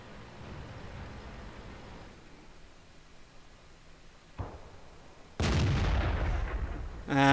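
A single heavy cannon blast from an ELC light tank in a tank battle game booms near the end, preceded by a quieter distant thud over low engine rumble.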